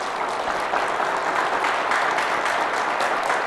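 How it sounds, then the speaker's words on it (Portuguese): A church congregation claps together after a call to applaud Jesus, a steady, dense wash of many hands filling the room for a few seconds with no voices on top. "Vamos dar uma salva de palmas para Jesus."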